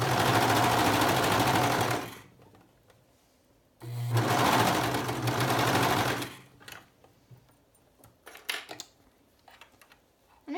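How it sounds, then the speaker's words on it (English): A serger sewing clear elastic into a garment seam runs in two loud, steady bursts of rapid stitching of about two seconds each, separated by a short pause, followed by quieter handling clicks and rustles. "And then it just gets serged in there, right along in"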